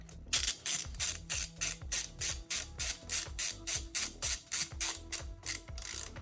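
Ratchet driving bolts back into the rear sets of a Ducati Panigale V4, a fast rhythmic series of sharp clicking bursts repeating about twice per second, close and clear with no talk.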